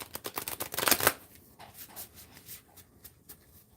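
A tarot-style card deck is shuffled in a brisk, crisp riffle burst lasting about a second, then eases into quieter, intermittent soft shuffling and card slides close to the listener, with no talking.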